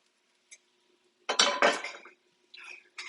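Steaks set into a pan on a level induction cooktop: a faint tick, then a close metallic clatter and scrape lasting under a second, followed by softer clinks, no talk.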